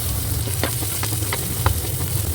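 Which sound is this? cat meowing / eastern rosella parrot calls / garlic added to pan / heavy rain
garlic added to pan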